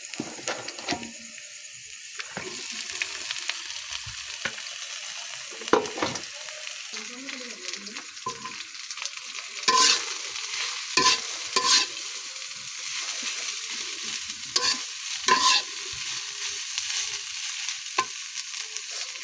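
Radish greens frying and being stirred into fried onions in a pan, with a steady sizzle under repeated scraping strokes of a spatula, several sharper clacks standing out.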